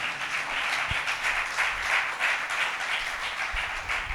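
A church congregation clapping together, a dense, steady wash of applause from many hands that swells and eases slightly, heard alone without talk.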